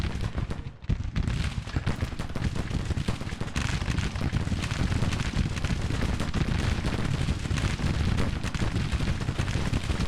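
Dense, continuous gunfire and artillery roar fill a battle in the video game Grand Tactician, set during a defense of Washington. The barrage stays loud and unbroken throughout, with no clear individual shots standing apart.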